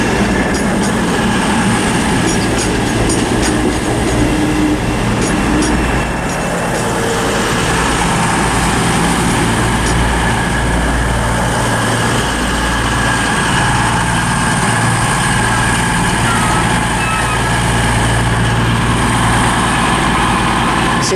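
A Class 221 CrossCountry diesel train idles at Southampton Central station, its engines keeping up a loud, steady drone with a constant low rumble and hum that fills the whole stretch, with no voices over it.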